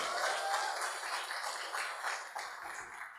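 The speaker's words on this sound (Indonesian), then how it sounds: "Kita beri tepuk tangan." Audience applause at a lecture on state asset management, a steady wash of clapping that holds across the clip and thins slightly near the end, moderately distant and fairly quiet.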